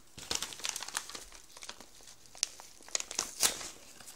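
A yellow parcel crinkles and crackles as it is unwrapped, a series of close, irregular rustling bursts with no talking.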